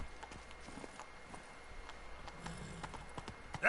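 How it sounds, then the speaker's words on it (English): The horse Roach in The Witcher 3 trots along steadily, with rhythmic hoof clip-clops on the ground over a soft game ambience throughout. "Yo, where's Roach at?"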